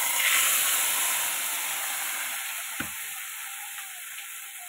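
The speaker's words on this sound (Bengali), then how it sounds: "এবার আমি এই যে মাছটাকে পুরো ঢেলে দিচ্ছি।" Whole fish going into hot oil with nigella seeds gives a strong sizzling hiss that is loudest at the start and slowly fades, with one brief knock partway through and no speech.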